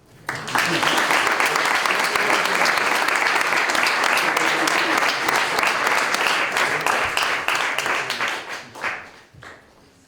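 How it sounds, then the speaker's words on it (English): A large audience at a parliamentary awards ceremony gives a sustained round of applause, dense and loud for about eight seconds before tapering off into a few scattered claps, with voices faintly audible. "I hope that you will recognise and reward that with another suitably indulgent round of applause"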